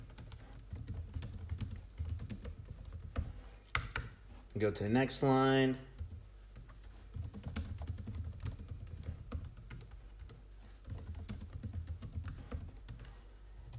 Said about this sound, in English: you can just start typing right away